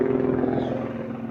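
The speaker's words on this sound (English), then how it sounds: "I apologize to you about the helicopter noise." Helicopter flying overhead above a busy street, a steady distant droning rotor hum at low level, continuous for the short stretch with no talk.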